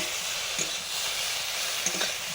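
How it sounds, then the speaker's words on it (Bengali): Okra frying in a pan gives a steady, even sizzle with a couple of soft clicks as it is stirred, and no voices. "মাছ ভাজা হয়ে গেছে, তুলে নিয়ে আমি ঢেঁড়সগুলো ভেজে নিচ্ছি।"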